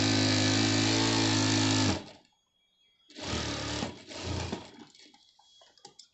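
A sewing machine runs fast and steady while stitching a simple shirt for about two seconds, then stops, and a second shorter burst of stitching follows after a pause, close and clear.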